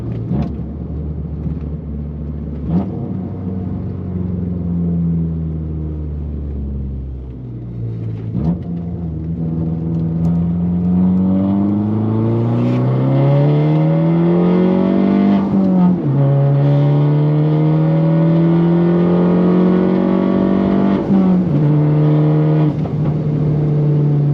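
A car with fresh clutch work pulling hard in third gear, its engine note rising steadily and loud, held close from inside or on the car, with a short dip between surges.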